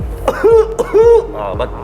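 A few short, harsh coughs in quick succession, close and loud, with voiced tones between them; sounds like someone deliberately imitating a dry cough.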